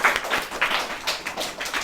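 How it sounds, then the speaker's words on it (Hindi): Classroom applause for a student, a short burst of scattered hand claps from a group, brisk and uneven, close by with no talk over it. "एक बार इनके लिए भी ताली"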